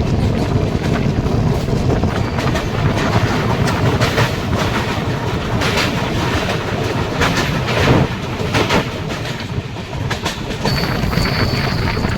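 Kolkata to Guwahati Garib Rath train running on a hill route during the monsoon, heard from on board as a loud continuous rumble with rapid clattering of wheels over rail joints and wind buffeting.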